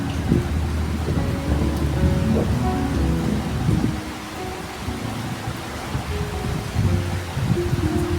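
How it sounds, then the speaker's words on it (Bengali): Rain falls steadily, with noticeable wind gusting through it, making a continuous rushing wash of drops on surfaces. Low rumbles run under the rain and the intensity eases slightly midway. "আর বৃষ্টি কিন্তু শুরু হয়েছে। খুব জোরে হয়নি, তবে বেশ হাওয়া আছে।"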